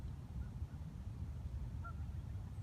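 Geese honking faintly in the distance on a cold winter day by a riverside yacht club, a few brief calls over a steady low rumble of wind or water.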